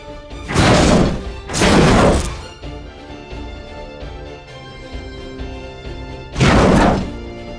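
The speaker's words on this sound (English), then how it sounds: "Mega cannon hit to hull." Three heavy booming impacts of mega cannon fire land close and loud on a spaceship hull, two in quick succession and one after a pause, over a low resonant rumble.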